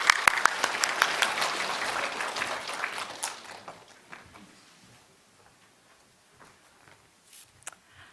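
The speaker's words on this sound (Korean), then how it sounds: "우리 박수로 맞이해드리겠습니다." Church congregation claps to welcome a guest teacher, dense loud applause for about three seconds that thins into scattered claps and quiet room sounds.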